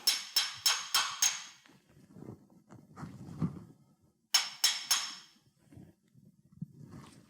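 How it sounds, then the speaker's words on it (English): Two quick bursts of sharp metallic taps from a brass hammer seating a king pin, five then four, ring out close by, separated by soft shuffling and handling noises. "It may require a little tapping with a brass hammer to get it to the right spot."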